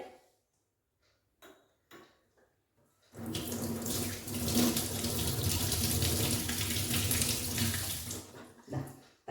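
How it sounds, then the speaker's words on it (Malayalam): Peeled beetroot is rinsed under a running kitchen tap, a steady loud gush of water splashing into the sink for several seconds after a few quiet handling knocks, then cutting off abruptly. "ഞാൻ ഇതിന്റെ തൊലിയൊക്കെ ചെത്തി ഇനി നമുക്കിത് കഴുകാം"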